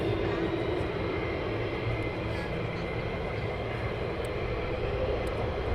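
Military jet aircraft departing runway 24 at RAF Lakenheath, a steady, loud broadband engine roar filling the whole clip without letup.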